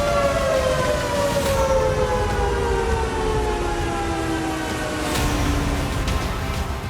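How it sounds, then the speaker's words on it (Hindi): An air raid siren after an attack on a dam on the Ural River wails steadily with a slowly falling pitch, distant-sounding over continuous background rumble. "हमले के बाद सायरन बजने लगा"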